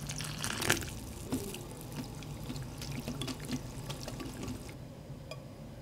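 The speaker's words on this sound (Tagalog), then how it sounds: "Magtunaw tayo ng 1 kutsarang harina at cornstarch sa kalahating tasang tubig." Flour and cornstarch stirred into half a cup of water for a kalabasa sauce, giving soft sloshing, dripping and light utensil clinks close by, with steady background hum and no talk.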